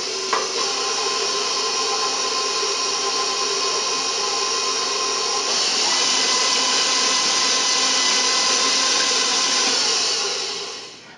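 Electric mixer whirs steadily through butter, milk and eggs for pancake batter, a continuous bright motor whine close up that shifts in tone partway through and then stops.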